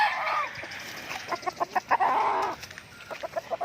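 Chickens on a farm, a close cluster of rhythmic clucks and short squawks in quick bursts, with a steady background hum.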